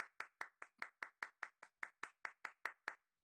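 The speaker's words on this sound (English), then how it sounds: "I'm just going to take my own applause for all of the actors." A single person claps alone in an even, steady rhythm of about fifteen crisp claps, close and fairly quiet, in applause for a Coriolanus performance.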